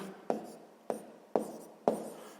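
A pen scratches across paper while working out math, making four brief, evenly spaced strokes up close, each with a sharp start that trails off.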